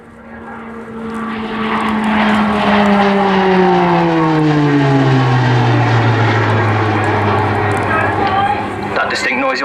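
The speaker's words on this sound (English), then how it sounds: "That distinct noise you'll hear throughout the display is the operated Garrett TPE turboprop engine" The Garrett TPE turboprop engine of an RAF Tucano aircraft drones nearby at an airshow, its pitch sliding steadily downward as the plane passes, with a rich buzzing whine throughout.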